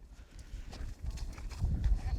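A horse's hooves thud softly on an arena surface during a riding lesson, a low, uneven rhythm that builds louder toward the end, close by.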